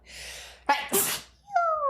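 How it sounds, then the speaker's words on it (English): A single sharp sneeze, close and loud, with a quick breathy intake before it and a short vocal sound trailing after. "I gotta sneeze."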